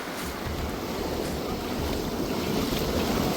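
Waves break on the shore at a Goa beach as a steady, loud wash of surf, heavy wind buffeting the microphone throughout and no talk.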